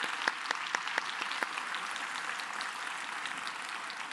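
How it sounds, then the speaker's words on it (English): A conference audience claps steadily for a panel, the applause fairly quiet and distant, with a few sharper claps standing out near the start. "Let's give a warm round of applause to the panel."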